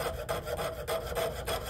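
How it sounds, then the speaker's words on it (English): A waxed saw blade rasps steadily through thin copper sheet in quick, even strokes, close by and fairly loud, with no voices. "So sawing to the outside of your line, stopping to wax your blade frequently."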